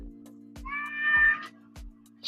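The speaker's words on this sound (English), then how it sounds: "excuse my meowing cat in the background." A pet cat meows in the background of a quiet indoor room, a single drawn-out, fairly clear call, with a low steady hum and soft periodic thumps around it.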